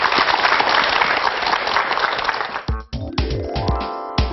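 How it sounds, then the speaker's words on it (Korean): An audience at a televised Korean lecture applauds, dense clapping for about two and a half seconds before it cuts to music. "힘찬 박수 부탁드립니다."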